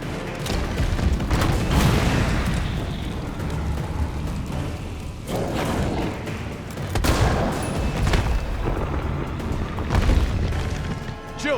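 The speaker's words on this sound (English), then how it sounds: "You can definitely like stagger bully him with these grenades." Repeated heavy booms from grenade explosions in the video game Resident Evil 3, dense thudding blasts and gunfire rolling continuously and loudly through the scene.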